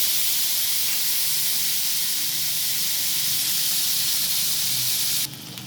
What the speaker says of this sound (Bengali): প্রথমে আমি আলুটাকে হালকা করে ভেজে নেব